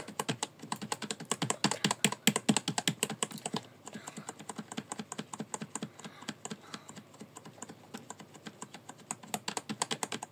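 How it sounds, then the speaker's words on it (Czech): Rapid, continuous clicking of keys on a computer keyboard, close and crisp, with a brief lull near the middle before the quick keystrokes resume; no one speaks. "Takhle vždycky klikejte."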